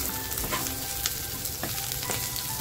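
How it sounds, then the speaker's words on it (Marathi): Ginger, chili and garlic sautéing with onion in a pan for a Kolhapuri mutton dish, giving a steady, even sizzle with faint scraping stirs, close and continuous without talk. "अद्रक, मिरची आणि लसूण जे आपण घेतलं होतं ते सुद्धा आपल्याला छान असं कांद्याबरोबर परतवून घ्यायचंय।"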